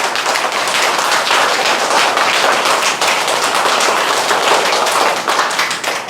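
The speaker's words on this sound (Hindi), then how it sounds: "कई बार क्लैप कर दे, ताली बजा दे।" Children in a school classroom clap along during a nursery-rhyme lesson, producing loud, rapid, continuous claps that blend into a dense, sharp patter from start to finish.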